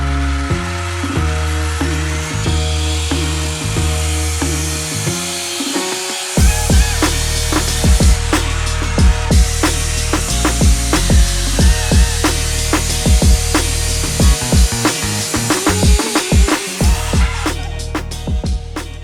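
A power tool cuts through an aluminium chassis tube structure for a mid-engine V10 twin-turbo Volvo build, a loud rasping, grinding whine with repeated cutting strokes, starting after a short lower-pitched run-up.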